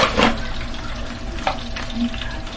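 Jollof rice sauce bubbling and frying in a pot, with a continuous close sizzle broken by sharp spitting splatters and the scrape of stirring.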